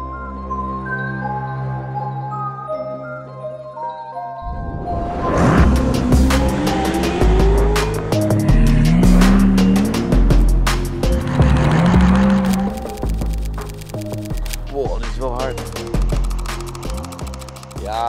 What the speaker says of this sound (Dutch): Het lijkt dan alsof de auto keihard rijdt, maar eigenlijk rijdt hij misschien maar 30 km per uur.